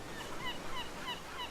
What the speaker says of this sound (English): Seagulls, other ocean sounds.